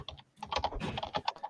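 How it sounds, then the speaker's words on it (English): Fast, uneven typing on a computer keyboard, a close, clattering run of key clicks with no voice over it. "I hear typing."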